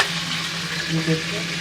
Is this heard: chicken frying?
yes